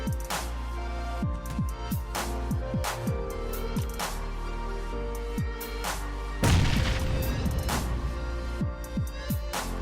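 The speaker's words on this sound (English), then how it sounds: "I'm sliding a grenade inside the room" A grenade bursts inside a room in PUBG, one loud dull boom with a noisy wash of debris partway through, set over a steady background of repeated short clicks and thuds.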